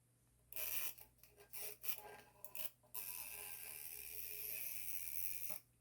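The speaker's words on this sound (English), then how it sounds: "mark that out with your chalk pencil" Chalk pencil scratching lines onto a fabric backpack panel, a few short close strokes followed by a longer continuous scrape, soft and dry against a quiet background hum.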